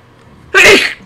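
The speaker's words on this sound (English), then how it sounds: "Big sneezes." A single loud, sharp sneeze bursts out abruptly after a quiet moment, close to the microphone.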